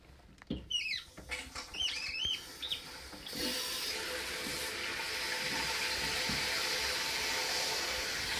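Water rushes into a toilet tank as it refills, a steady hiss and flow that starts after a few scattered drips and gurgles and then holds at a constant level.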